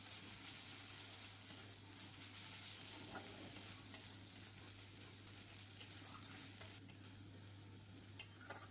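Fried onion with garlic and ginger paste sautés in a pan, a constant faint sizzle under a low steady hum, with light intermittent stirring clicks and no voices.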